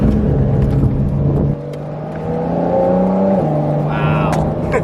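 A Porsche 992 Carrera 4S engine pulls hard through a turn, loud and close, with rising revs, a brief drop in pitch at a gearchange, then steady high revs and whirring tire and road noise.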